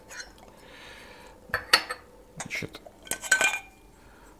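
An Esbit camping coffee maker is screwed together at close range: scattered metallic clinks and scraping clicks in short bursts, with a voice briefly speaking.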